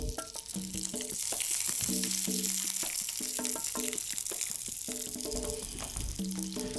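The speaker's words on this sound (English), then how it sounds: "we can go straight in here and just start crisping up this belly" Pork belly pieces crisping in a hot pan give off a steady, bright sizzle and spatter that runs the whole way through, with background music playing over the frying.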